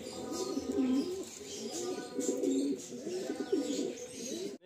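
Pigeons, including flying breeds kept for sale, coo in repeated rolling phrases, close and fairly soft, several calls overlapping through the few seconds with light background noise.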